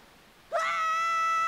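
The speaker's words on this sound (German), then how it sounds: "Ja, du kannst laut schreien, Link." Link cries out in a Zelda video game, a sudden loud, sustained high-pitched scream that rises abruptly from quiet and holds steady to the end.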